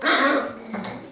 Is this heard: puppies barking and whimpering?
yes